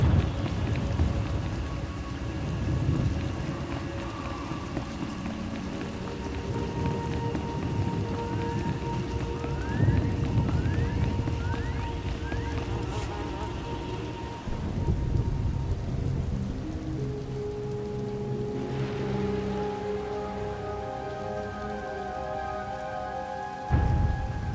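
Steady heavy rain falls in a stormy outdoor scene from a Star Wars audio drama, with deep rolling thunder rumbling underneath and a brief electronic chirping tone partway through, dense and continuous throughout.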